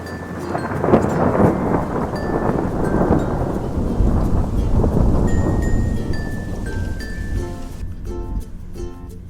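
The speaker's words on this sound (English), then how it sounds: "Thunder crashing, lightning flashing, two good friends were homeward dashing." Thunder rumbles and crashes on a stormy night with steady rain and some wind, a loud rolling roar that swells and fades, later joined by faint musical tones as the storm recedes.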